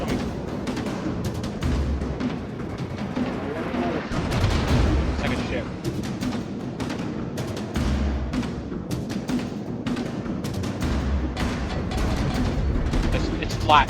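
Naval gunfire in World of Warships around the USS Kidd (DD-661), an American Tier VIII destroyer: repeated heavy booms and rapid cracks of shots roll through a dense battle din, with radio-style voices talking over it.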